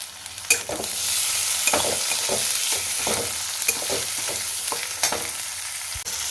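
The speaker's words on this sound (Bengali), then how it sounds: "টমেটোটাও হালকা করে একটু ভেজে নেব।" Chopped tomato stirred and fried with onions in a pan for egg curry, a constant near sizzle with repeated rhythmic spatula scrapes and taps throughout.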